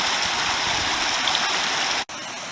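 Forney Creek rushes steadily at a hiking crossing in the Smoky Mountains, a close, loud, unbroken wash of flowing water with a brief dip near the end and no voices.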